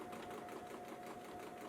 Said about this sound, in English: I did check, and the sewing machine is not too loud.